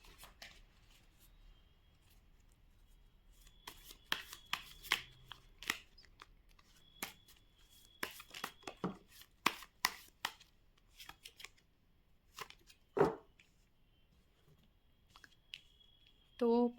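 Tarot cards are shuffled by hand for a reading, heard as scattered bursts of soft riffling and slapping at close range, with quiet gaps between flurries and a thin faint tone lingering in the background.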